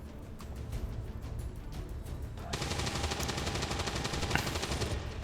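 Gunfire in the video game XCOM 2: a dense, steady burst of rapid automatic shots runs through the second half, after quieter muffled ambience, with no talking.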